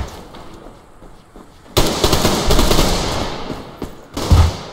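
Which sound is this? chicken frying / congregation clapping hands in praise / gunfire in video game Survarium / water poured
gunfire in video game Survarium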